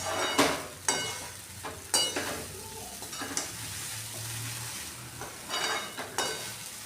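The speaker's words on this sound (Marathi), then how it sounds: "गॅस कमी ठेवायचा आहे जेणेकरून शा शाबुदाना खाली चिपकणार नाही आणि चांगलं मिक्स करून घ्यायचं आहे" Sabudana khichdi being stirred in a pan over low gas, with repeated scraping strokes of a spoon against the pan over a soft, continuous sizzle.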